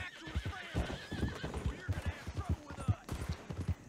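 A horse whinnies among rhythmic hoof clip-clops in the video game Red Dead Redemption 2, with a person talking over the sounds at close range.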